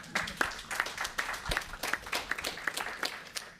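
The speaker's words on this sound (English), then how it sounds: "I think we can give them a round of applause." Scattered applause from a conference audience at an event on development banks and the just transition, with sparse individual claps and a murmur of voices underneath, moderately distant and uneven in rhythm.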